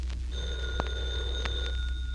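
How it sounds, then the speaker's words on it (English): A telephone bell rings indoors as a steady electric trill, with a faint hum underneath. "There's the phone"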